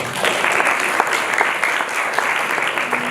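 Audience applause for World Cup champion Youri Djorkaeff at a welcome event in Rwanda: dense, sustained clapping from many hands, loud and even throughout.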